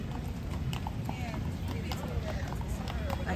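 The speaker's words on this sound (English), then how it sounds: "Look at the horses going by." Horses clip-clop past in Central Park, New York, their hooves sounding as quick, steady, repeated knocks over a noisy outdoor background.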